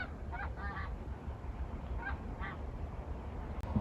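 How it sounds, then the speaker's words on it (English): Several geese honk in short bursts from a distance as they fly overhead in Canadian countryside, calling a few times over a steady low outdoor rumble. "We got some geese flying overhead."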